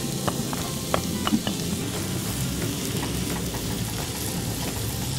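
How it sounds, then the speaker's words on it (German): Steady crackling sizzle of onions frying in butter in a pan, with occasional small pops and scraping ticks, over a low background rumble. "gibst die Zwiebeln dazu. Diese brätst du schön glasig."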